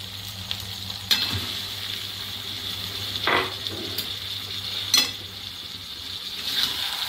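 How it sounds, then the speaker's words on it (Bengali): Chicken is added to softened onions in a pan, with a continuous oily sizzle and a few spoon scrapes and knocks against the pan standing out. "আর পেঁয়াজ নরম হয়ে গেছে, এবারে আমি মাংসটা দেবো।"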